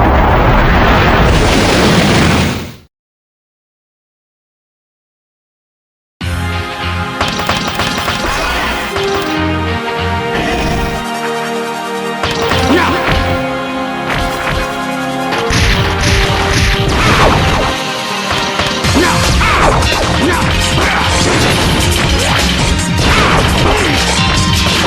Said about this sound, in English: My explosion is beautiful.